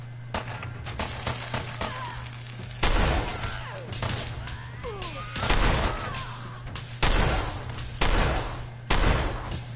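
Single shotgun blasts from a video game, five loud booming shots spaced a second or two apart, with softer game effects and a steady low hum between them.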